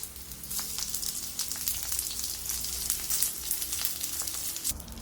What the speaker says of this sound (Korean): 네, 만두를 뒤집어서 익혀주세요.